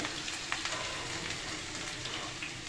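Garlic-ginger paste fries with onions and chilies for a chana dal and potato curry, making a soft, continuous crackling sizzle with small pops scattered through it.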